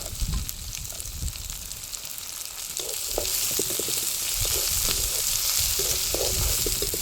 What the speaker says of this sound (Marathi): कांदा आपल्याला ह्याच्यात छान परतून घ्यायचा आहे